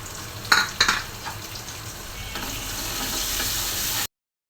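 Egg goes into a pan of fried onions: a couple of spatula knocks and clatters, then a steady frying sizzle that swells and holds until it cuts off.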